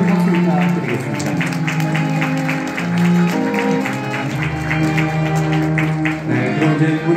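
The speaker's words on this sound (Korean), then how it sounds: "여러분 박수 부탁드리겠습니다" Wedding guests applaud at the Novotel Ambassador Gangnam Champagne Hall while a piano quartet keeps playing. Steady, moderate clapping runs underneath the sustained instrumental music throughout.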